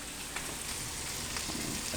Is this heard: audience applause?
no